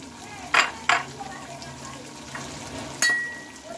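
Fried eggs drop into a sizzling orange curry and get stirred, with two sharp clatters of the spoon early on and another knock near the end over a steady low frying hiss.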